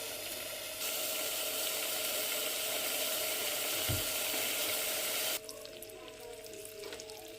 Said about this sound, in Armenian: Մենք սպասում ենք, որ ջուրը եռա, գոլորշանա, որպեսզի մնա շաքարը